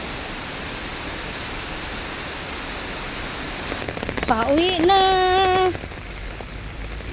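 Heavy typhoon rain in Hong Kong pours down in a steady, dense hiss that fills the whole clip, with a voice speaking briefly over the downpour.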